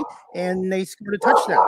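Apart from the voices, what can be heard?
dog barking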